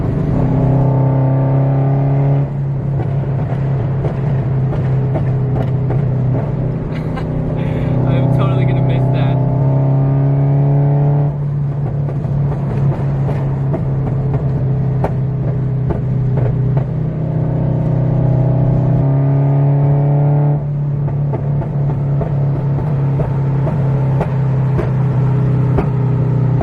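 A Pandem Rocket Bunny Toyota FRS being driven, its engine droning loudly and steadily with several rising pulls as it accelerates through gears, close and continuous throughout.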